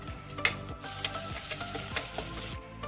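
Ginger and garlic fry in a pan with a steady, close sizzle, broken by regular scraping stir strokes roughly every half second; no voices.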